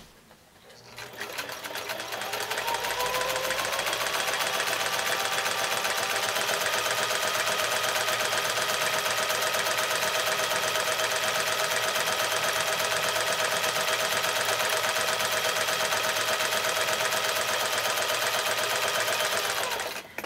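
A sewing machine stitches a foundation-pieced quilt block in one long, unbroken run, its rapid, even mechanical chatter close and loud for nearly twenty seconds before it stops.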